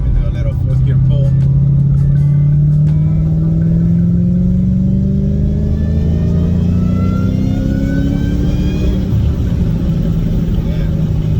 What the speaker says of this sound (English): Let me do a little fourth gear pull.